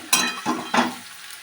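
Onions frying in a pan, three quick bursts of sizzling and stirring in close succession that fade to a low hiss within a second and a half.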